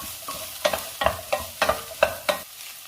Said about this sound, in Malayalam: ഇതിലേക്ക് അരിഞ്ഞു വെച്ചിരിക്കുന്ന ചുവന്നുള്ളി, പച്ചമുളകും കൂടെ ചേർക്കാം. എല്ലാം കൂടെ ഒന്ന് വഴറ്റിയെടുക്കണം.